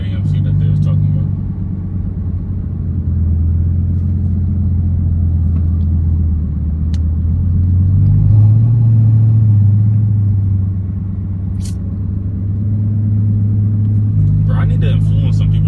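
An AMC car idles at a car meet with a deep, steady exhaust rumble that rises and falls slightly, while voices murmur nearby.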